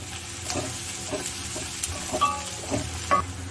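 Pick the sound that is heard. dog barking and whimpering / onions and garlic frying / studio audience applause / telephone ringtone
onions and garlic frying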